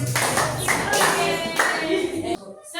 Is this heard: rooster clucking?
no